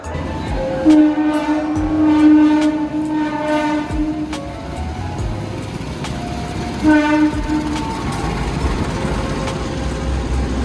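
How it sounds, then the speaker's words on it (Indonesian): Inside a moving carriage of the Senja Utama train in Indonesia, a steady rumble and rattle of the wheels fills the space while a train horn sounds twice, the second blast shorter. "Kita sudah berada di dalam gerbong kereta Senja Utama."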